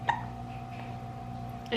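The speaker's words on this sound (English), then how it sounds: "he has the hiccups right now, if you can hear that" Hiccups from a baby boy on a long road trip, small sharp catches standing out briefly against a steady low hum, one near the start and another at the end.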